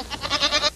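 A goat bleats once, a short wavering cry lasting under a second, fairly clear and alone.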